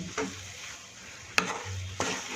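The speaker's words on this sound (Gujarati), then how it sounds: "થોડી વાર આપણે હલાવી અને આપણે આ શીરાને સર્વ કરી દઈશું" A spoon stirs moraiya sheera with ghee and melted sugar in a pan: soft, quiet scraping with a faint low sizzle and two or three sharper clicks of utensil against metal.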